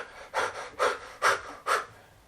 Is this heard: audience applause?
no